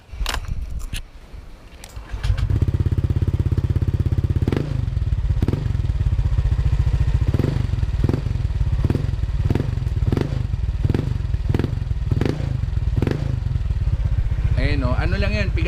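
A Honda Click 125 motorcycle engine with an aftermarket Mutarru silent killer exhaust pipe idles, then is revved in a series of short throttle blips about once a second; a voice is heard briefly at the end.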